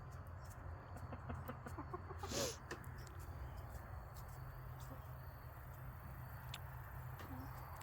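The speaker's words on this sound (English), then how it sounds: "That one's the rooster." Backyard chickens and a rooster cluck softly and intermittently at close range over a steady low hum, with a few short louder calls.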